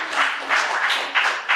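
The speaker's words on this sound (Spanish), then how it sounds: "Denle un aplauso pero fuerte al Señor." A church congregation applauds loudly and close, clapping in rhythmic surges of four or five bursts.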